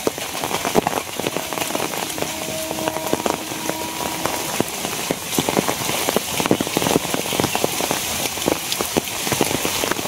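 Steady rain falls hard and continuously, a dense close hiss with splashing drops that holds at an even level from start to finish, with no talking.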